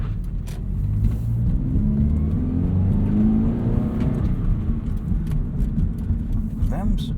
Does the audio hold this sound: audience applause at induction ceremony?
no